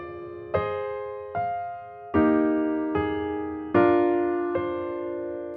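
Piano playing a simplified right-hand arrangement of a piece, with six sustained chords struck at a slow, even pace, each ringing out and decaying before the next, played alone and close.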